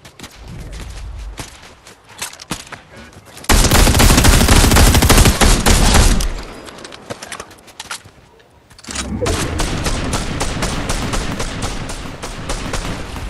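Rapid automatic gunfire and heavy bursts in a multiplayer shooter match, loud and close, arriving in long sustained volleys separated by a quieter stretch of sporadic shots.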